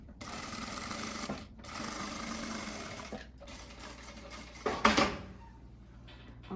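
A sewing machine topstitches a narrow line along the inside of a blouse facing, running in three steady bursts separated by short pauses, close and clear, with a brief clatter near the end.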